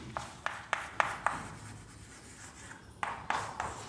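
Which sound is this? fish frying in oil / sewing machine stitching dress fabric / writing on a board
writing on a board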